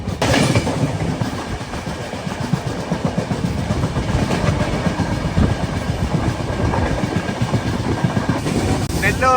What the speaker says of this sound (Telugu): నెల్లూరులో కూడా మన ట్రైన్ అయితే ఆగదు.